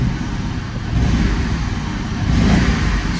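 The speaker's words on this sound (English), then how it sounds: "I've never revved this car, Anthony." A Ford Mustang drift car engine runs close by after being brought back to life, a loud, rough idle that swells in two short revs, with no talking.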